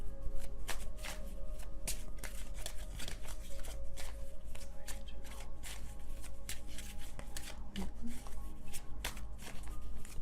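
Tarot cards shuffled by hand in a quiet room, a rapid series of soft riffling flicks and slaps repeating steadily throughout, close and fairly faint.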